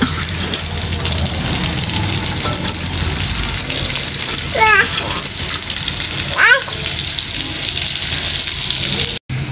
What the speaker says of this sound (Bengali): আর এখানে পেঁয়াজটাও ভেজে নিচ্ছি।